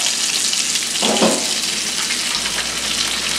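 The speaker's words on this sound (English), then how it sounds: "my water's boiling, so I'm going to add my angel hair pasta" Steady broadband hiss of boiling salted water with a brief splash and burst of bubbling as angel hair pasta drops in, continuous throughout.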